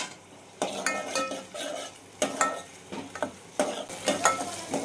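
Ginger and tomato hit hot oil in a pan for a chana dal dish, crackling and sizzling while a metal spoon repeatedly stirs and knocks against the pot in uneven bursts, close and loud without talk.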